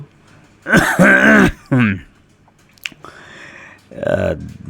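A narrator's voice imitates an old man clearing his throat: a couple of rough, voiced hacking bursts, followed by quieter breathy rasps and a final gruff grunt, close and fairly loud.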